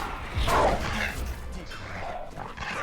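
A Valorant agent's dog ability lets out a couple of sharp, echoing barks and yips at moderate distance, layered over faint game ambience and footsteps.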